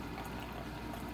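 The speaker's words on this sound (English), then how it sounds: "We're going to pour a cup of it" Hot honey-sweetened tea pouring into a cup, a steady soft liquid stream running without a break, faint and close.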